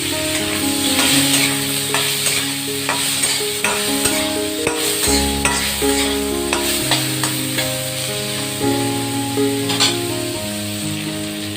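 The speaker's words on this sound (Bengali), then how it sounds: "কারণ মাছটাকে আগে একটু ভেজে নেব" Prawns fry in hot oil in a wok, a loud continuous sizzle with occasional stirring clicks, heard close under steady background music.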